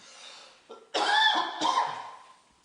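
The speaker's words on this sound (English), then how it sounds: "Sorry, I'm going to cough." One person coughs and clears their throat during a casual gaming podcast, a few rough bursts close to the mic, with quiet room between them and no talking.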